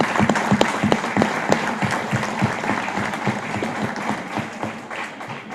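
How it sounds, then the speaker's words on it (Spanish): Audience applause in a meeting hall, loud and close, with distinct claps that are dense at first and gradually thin out. "Les pido un aplauso para Italia,"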